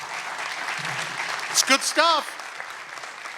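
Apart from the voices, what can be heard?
audience applause at energy summit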